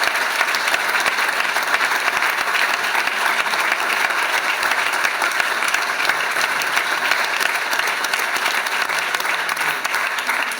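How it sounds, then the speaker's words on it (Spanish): Sustained audience applause at a political party conference in Ibiza, a dense, steady clapping from a large crowd that continues without a break for about ten seconds. "Un aplauso muy merecido."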